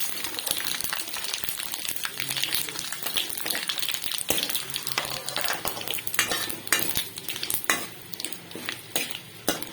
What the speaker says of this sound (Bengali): এখন এটা ভালো মতো নাড়িয়ে নিতে হবে।